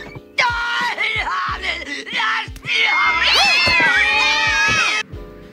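Several cats meow and whine loudly and close by, overlapping in rising and falling wails with short pauses between, the calls sharpening into a long drawn-out caterwaul near the end.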